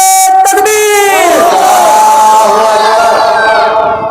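A large crowd at a religious gathering roars back a loud unison chant in answer to the Nara-e-Takbeer slogan, the massed voices swelling and then holding strong close by.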